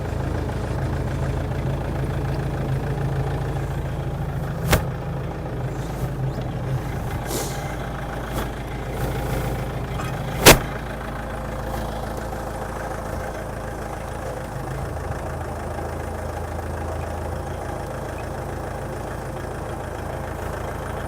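An SP7015 TRX stump cutter engine runs at a steady idle-like rumble while driving the wheel forward, with a few sharp clanks and a hiss, close and continuous, with no talk.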